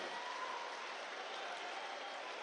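Rally crowd applauding to welcome Prime Minister Narendra Modi at a public meeting in Betul, Madhya Pradesh, a steady, even wash of many hands clapping, distant and uniform throughout.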